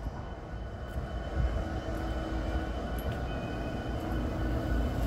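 CSX freight locomotives backing up around a wye on the old main line at Point of Rocks, a low steady diesel rumble heard from a distance with faint metallic squeals and no talk.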